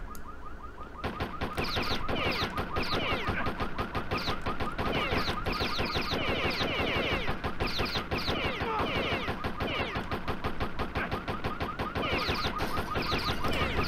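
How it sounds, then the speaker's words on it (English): Dense, relentless gunfire from the 1997 video game Postal fills the whole stretch, a loud, steady barrage of rapid shots and crashing bursts with a harsh alarm-like tone running through it, and no voices. "if you shoot things long enough, you will actually be able to cause them to do things such as explode"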